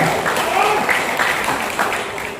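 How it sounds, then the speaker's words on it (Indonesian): Audience applause at a formal gathering about a boxing training center, a dense wash of many hands clapping that fades slightly toward the end, with a speaker's voice over it. "Tepuk tangan, ya."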